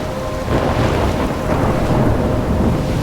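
A thunderstorm rages in Life Is Strange, with heavy rain and deep rolling thunder making a loud, dense and continuous roar throughout.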